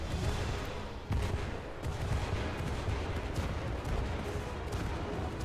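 Missiles striking a ship in the naval combat game From the Depths, a dense, continuous rumble of explosions and impacts with a sharper blast near the start, loud and sustained.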